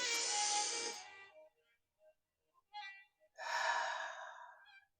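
Deep breathing during a guided relaxation exercise: a long audible exhale, a pause with small breath sounds, then another long drawn breath, close and clear with no talking over it.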